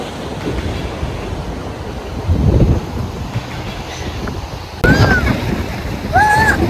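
Sea waves wash onto a UK beach in a steady broadband roar with wind noise, while people talk nearby over the surf.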